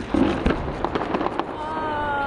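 New Year fireworks at Sky City crackle and pop in a quick series of distant bursts, with people's voices mixed in around them.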